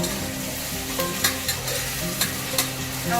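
Ginger garlic paste frying in a pan for Andhra-style green chilli mutton, with steady close sizzling and repeated scraping stirs of a spoon against the pan, no voices.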